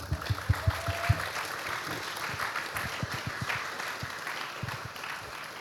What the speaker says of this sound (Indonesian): Oke, sekali lagi mari kita aplaus buat mereka